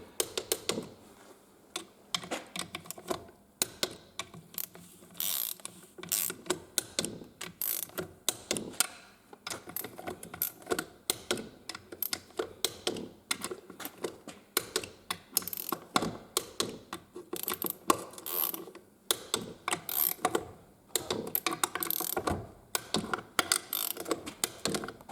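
Screws on a Renault gearbox casing are driven with a ratchet, producing quick bursts of close, dry clicking pawl sounds in irregular runs with short pauses between them, quiet and alone throughout.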